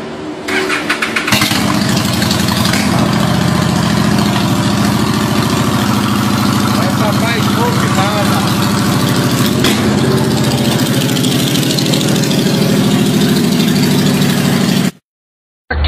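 A motorcycle engine cranks and catches, then idles loud and close with a steady mechanical rumble for most of the stretch before cutting out abruptly near the end.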